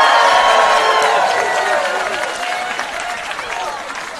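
An audience at a stand-up comedy show breaks into loud, dense applause with some cheering, starting at full strength and gradually thinning out over a few seconds.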